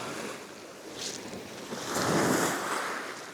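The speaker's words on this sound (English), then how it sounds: "the sound of them waves is just beautiful." Waves rushing and breaking on a shore, a soft wash followed by a louder surge, with light wind noise across the microphone.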